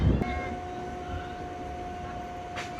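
Passenger train running with a steady rumble and a sustained horn-like tone, heard from onboard or nearby at moderate level, with no talk.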